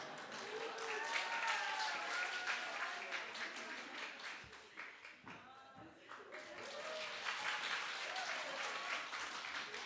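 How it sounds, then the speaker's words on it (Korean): A church congregation at a Sunday morning service breaking into applause; a dense, sustained round of clapping fills the room, dipping briefly midway before swelling again, with a voice speaking over it. "참 잘했다고 박수 한번 해주시기 바랍니다."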